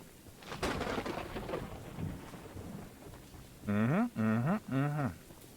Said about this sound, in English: Fine day for rain.